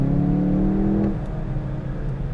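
Synthesized exhaust note piped through an interior speaker in a 2020 Volkswagen Jetta GLI, a loud, steady engine-like drone with strong low harmonics that rises slightly and then settles into a lower rumble.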